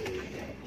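Pigeons in a neglected loft coo in a low, muffled murmur, close by and steady through the brief moment, with no speech.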